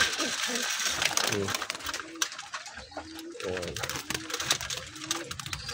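Pigeons peck at feed, with soft rapid tapping and scattered coos mixed in, while a person talks over the activity throughout.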